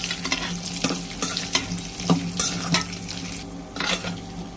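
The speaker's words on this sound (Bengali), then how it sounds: "পেঁয়াজ শুকনো মরিচ আমার ভাজা হয়েছে" Onions and dried chillies fry in hot oil with a steady sizzle, broken by scraping stirs of a spoon against the pan.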